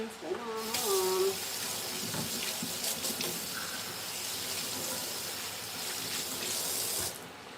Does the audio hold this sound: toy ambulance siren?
no